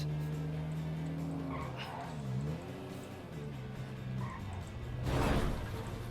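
A car crash in the GTA 5 video game, with tire skidding and engine tones along with a loud burst of impact noise near the end.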